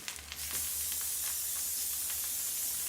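Cooking spray hisses onto a pan in one continuous, close, steady burst. It starts after a couple of brief clicks and holds at an even level until the end.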